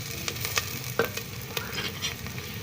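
Finely chopped onions frying in hot ghee in a cooking pot, a steady soft sizzle with occasional stirring scrapes and small pops, close and alone without talk.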